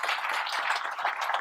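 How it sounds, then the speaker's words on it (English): Brief stretch of dense, continuous clapping from a crowd, steady and fairly distant with no voices on top. "let's give these guys a big round of applause"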